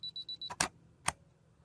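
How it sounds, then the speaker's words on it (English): A DSLR camera taking a picture: four short focus-confirmation beeps in a quick even row, then two sharp close mechanical shutter clicks about half a second apart, with no talking. "pressing it full to take the picture"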